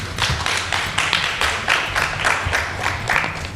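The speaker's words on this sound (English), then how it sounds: "Another loud round of applause," An audience at a panel event gives a loud round of applause for a panelist, with clapping in regular pulses, close and fairly strong throughout.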